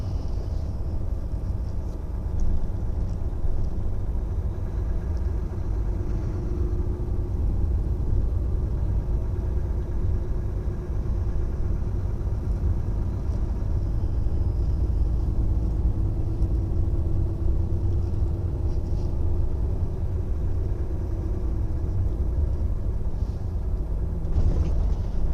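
Trucks rumble and idle at a busy truck stop at night, a continuous low engine drone with faint mechanical hiss, steady throughout with no speech.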